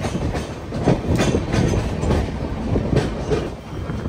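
A train pulls in on the opposite track at Nellore station, a dense, steady rumble with rhythmic wheel clatter rolling close by and never letting up.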